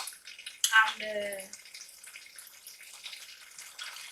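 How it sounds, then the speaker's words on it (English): Water poured from a tap into a small cup of flour for a meat pie filling, a short splashing rush followed by a softer trickle, close by, with a brief spoken word. "So we are going to add little water on it and stir very well."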